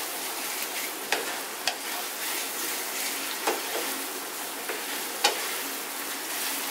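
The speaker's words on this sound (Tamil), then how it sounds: "ஐ ஃப்ளேமில் வச்சுட்டு கிண்டி விட்டே இருங்க" Thick milk halwa being stirred in a pan over a flame, with soft continuous scraping and a gentle sizzle from the ghee, broken by several sharp clicks of the spoon against the pan.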